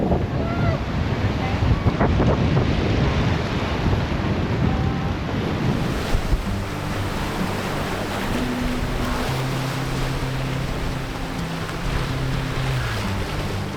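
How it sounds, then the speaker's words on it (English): Strong 25-knot wind and rolling waves aboard a yacht sailing south along the New South Wales coast in a gale-force Sydney to Hobart race, a loud continuous roar of wind buffeting the microphone and rushing water, with voices briefly underneath. "We've got about 25 knots behind us, and the further south that we go, the windier it's going to get as well."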